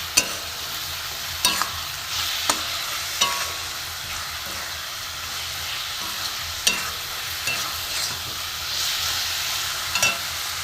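Coconut filling for Bangladeshi pitha being stirred in a pan: steady scraping and soft sizzling with occasional sharper knocks of the spoon against the pan, close and continuous, with no talk.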